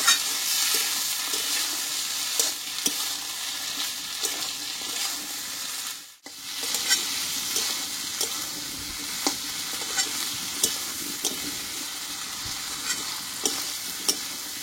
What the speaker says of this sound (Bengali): এবার আলুটা দিয়ে মাছের তেলের সঙ্গে আমি এইভাবে কিছুক্ষণ কষিয়ে নেব